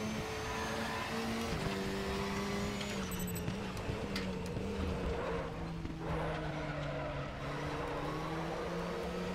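GT4 race cars including a Lotus in RaceRoom: steady, loud engine drone with rising and shifting pitch as cars accelerate side by side, plus faint tire squeal, no talking.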